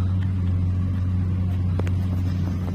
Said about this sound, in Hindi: ये 10 चक्का वाला महिंद्रा,